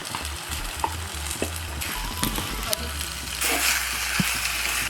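Mutton goes into a frying pan with tomato, ginger and garlic, producing a close, steady sizzle with crackles and stirring scrapes that swells louder near the end.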